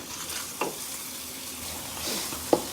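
Thick-sliced bacon sizzles steadily in a pan, a constant hiss with a couple of sharp pops, heard close and without talk.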